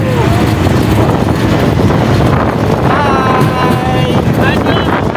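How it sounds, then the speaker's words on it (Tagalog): Strong, cold wind roars and buffets the microphone continuously while cycling toward Nami Island, South Korea, with a brief shout of greeting. "Yung hangin!"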